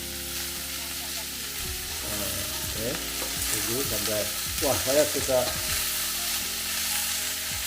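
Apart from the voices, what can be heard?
marinated bitter melon sizzling in a frying pan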